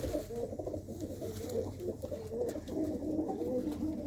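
A pigeon coos in a low, continuous murmuring warble close by, against a steady background hum.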